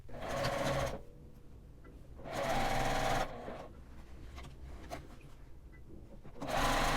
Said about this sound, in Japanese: 同じように端ミシンをかけます。